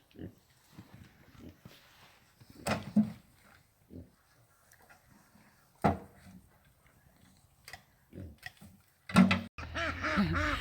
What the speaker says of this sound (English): the ducks are hungry, so I better get him some food